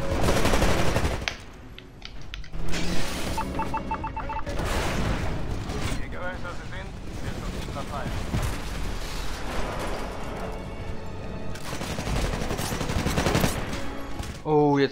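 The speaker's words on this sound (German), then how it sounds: "ich schieße die ganze Zeit auf die falschen Titan, ich Idiot!" Heavy automatic weapon fire aimed at Titans in Titanfall, rapid dense bursts of gunshots with explosive booms, loud and close, broken by brief pauses across the whole stretch.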